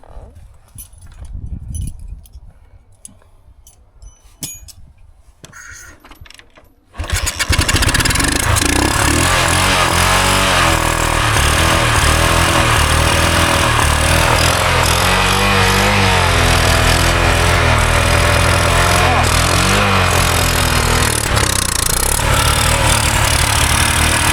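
Quiet handling noises, then a 1972 Honda XL250 motorcycle engine starts and runs loudly and steadily nearby with slight revving fluctuations.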